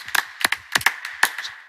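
A small audience at an event claps sparsely, with a few sharp, irregular hand claps ringing close and distinct rather than blending into full applause.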